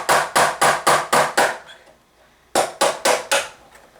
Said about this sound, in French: je vais simplement prendre un tournevis avec un marteau